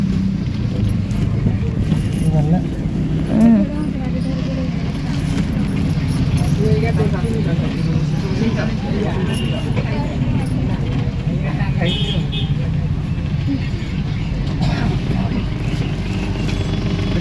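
Inside a moving bus, a constant low engine and road rumble runs throughout, with occasional rattles and jangles, while people talk over it.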